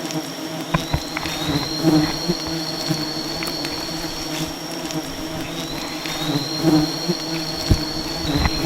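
Swarm of honey bees pouring out of a wild nest in Sumbawa, a dense continuous buzzing drone with individual bees flying close past, fairly loud and steady throughout with faint background knocks.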